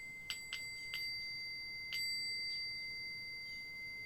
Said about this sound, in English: You like my little bell?